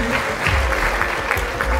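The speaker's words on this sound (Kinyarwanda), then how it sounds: "Amashyi" Applause at a wedding ceremony that turned into a church-style service, a crowd clapping in a steady dense patter for the whole moment, close and fairly loud with no words.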